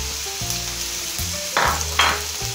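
Chopped onion and garlic frying in olive oil in a hot pan as the base for a seafood paella, a steady close sizzle with a few sharper spattering bursts toward the end.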